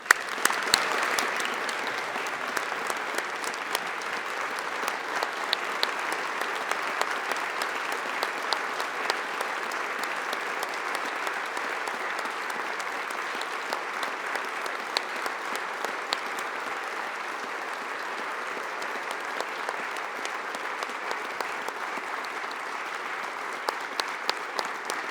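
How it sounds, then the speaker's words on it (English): Long, steady applause from a large audience in a hall during a governor's State of the State address, dense even clapping sustained throughout with no speech over it. "I would ask that they please stand and you give them a round of applause."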